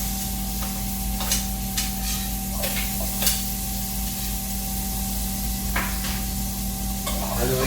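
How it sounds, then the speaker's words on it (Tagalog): Chopped onion sautéing in hot oil in a pot, a steady close sizzle with stirring scrapes and clinks running throughout, alone without any voice. "At sa puntong ito, magigisa na tayo ng ating sibuyas."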